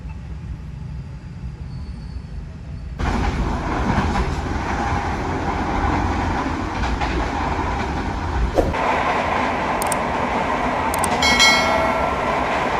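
A passenger train rolls past with a steady broadband rumble and clatter, swelling louder after a few seconds and staying close, with brief high squeals near the end.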